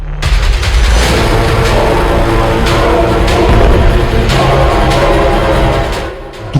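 A missile strikes an Israeli Merkava tank standing at the border, giving a loud, dense roar of blast noise that holds steady for several seconds, with sharp cracks breaking through, before fading slightly at the end.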